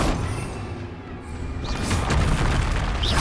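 A spell blast from a Harry Potter–style video game, a dense booming burst that swells and holds loud for a few seconds with bright crackling on top.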